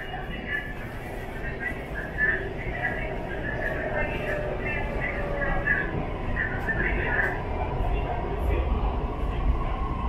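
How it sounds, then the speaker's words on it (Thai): A Bangkok MRT Blue Line metro train rolls between stations toward Tao Poon, a steady rumbling hum with faint squeals, heard from inside the car as an onboard announcement plays over it. "Next station, Taupo. Train doors open on the left."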